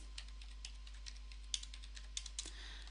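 Faint, sparse clicks of keys on a computer keyboard as a network ping command is typed, the individual keystrokes spaced irregularly against a low background hum.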